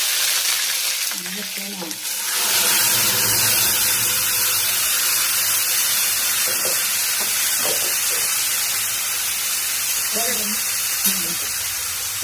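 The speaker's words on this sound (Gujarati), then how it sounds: "સરસ મજાનો ચણાનો વઘાર થઈ ગયો છે." Mustard seeds, cumin and chickpeas tempering in hot oil, a loud, close, continuous sizzle and hiss that swells after a brief pause, with a voice speaking briefly near the start.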